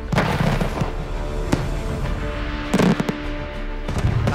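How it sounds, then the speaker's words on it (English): Professional pyrotechnic shells explode in a series of deep booms and crackling bursts, one large bang followed by scattered smaller reports and a final cluster of rapid pops, with no voices. "You can see spread many, many little fireworks."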